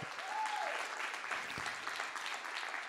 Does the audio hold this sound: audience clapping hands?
yes